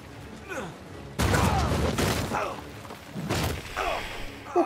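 Gunfire in the video game Uncharted 4 during a chapter set in Libertalia: loud bursts of shots and impacts start suddenly and return in rough clusters, with mechanical clatter and game voices talking through the fight.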